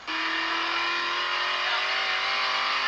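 In GTA San Andreas, a car engine revs hard and holds a loud, steady high whine that climbs slightly in pitch, close and without any voices.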